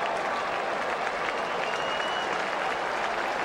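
A stadium crowd in Toronto gives a sustained ovation for a Manny Ramirez home run, with dense applause and cheering washing continuously at an even level throughout.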